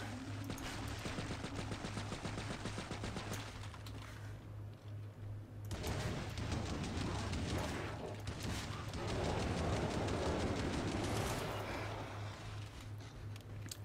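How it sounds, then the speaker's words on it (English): Commando gunfire in Killing Floor 2 is aimed at a Scrake during slowed Zed Time, heard as steady rapid shots with a droning low hum underneath, fairly faint in the mix and with no speech over it. "just going to trigger Zed Time and start shooting at this Scrake"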